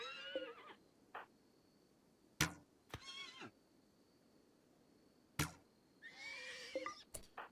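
Horse neighs and whinnies in RimWorld, a few short bursts spread across several seconds with sharp thuds between, fairly close over a quiet background hum.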